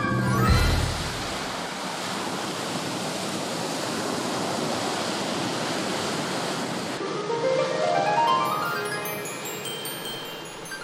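Ocean surf surges and breaks on a shore where sea turtles lay their eggs on Christmas Island, as a steady loud wash of waves with a swelling roar of foam, with no voices.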